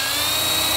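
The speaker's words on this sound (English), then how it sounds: "I have a drill bit on here, it's about a quarter inch." A power drill with a quarter-inch bit drilling air holes whines steadily at high speed, a constant buzzing drone with no pauses.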